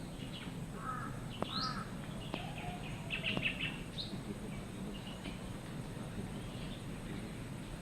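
Several distant crow caws ring out in the first half over a quiet outdoor background hum, then the scene settles into low ambient noise.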